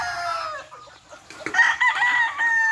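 A Boston Black gamefowl rooster crows loudly and close, a drawn-out cry, followed by clucks and a second crow from nearby birds on a farm.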